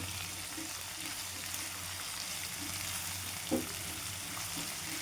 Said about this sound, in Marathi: कांदा पण छान भाजून घ्यायचा